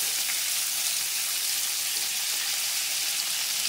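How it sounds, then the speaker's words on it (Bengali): Cut potatoes frying in a wok with a little salt, a dense, even hiss of sizzling oil throughout, close and loud with no talk. "দিয়ে আলুগুলো ভালো করে লাল করে ভেজে নেবো।"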